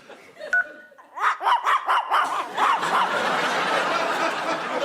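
Corgis let out a quick run of about seven sharp, yappy barks in a rhythmic burst. A steady, noisy wash follows and carries on to the end.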